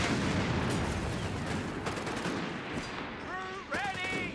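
Dense, continuous gunfire from a Company of Heroes 3 battle rattles in a loud sustained fusillade, thinning toward the end as tonal game sounds and a brief voice break through.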